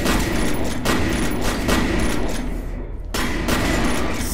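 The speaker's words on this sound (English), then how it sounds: "That was a shotgun off" Shotgun blasts and sustained gunfire in the F.E.A.R. first-person shooter, loud and dense with repeated sharp reports and a brief lull near the end before the firing resumes.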